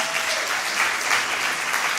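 Steady audience applause fills a ceremony hall for a film nominee at a festival closing event, a dense continuous clatter of many hands clapping without letup and with no voices above it.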